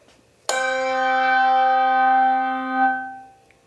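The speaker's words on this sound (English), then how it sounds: "Here's the middle-sized bell." A single strike on a middle-sized handbell, a bright ringing tone with rich overtones that rings out alone and fades slowly over about three seconds before being damped.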